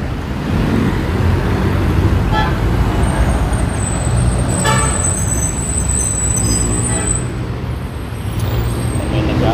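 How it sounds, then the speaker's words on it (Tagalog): Dense, loud roar of heavy traffic on a Manila street, with engines, a bus air brake hissing and passing vehicles forming a steady wash throughout, close by and continuous. "Ba't kaya dito sa Maynila ang daming sasakyan?"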